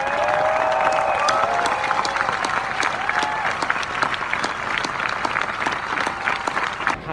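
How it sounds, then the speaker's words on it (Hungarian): A large crowd at a street protest in support of the Index newsroom applauds steadily, with dense, sustained clapping and a few whistles and cheers rising over it for the whole stretch. "hogy tapsoljuk meg az Index szerkesztőségét."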